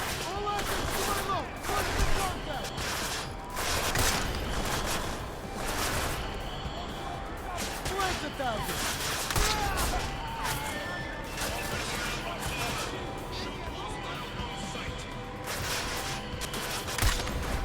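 Heavy gun fire in the video game Deus Ex: Mankind Divided, repeated loud bursts of shots and impacts over about eighteen seconds, mixed with game effects and some talk.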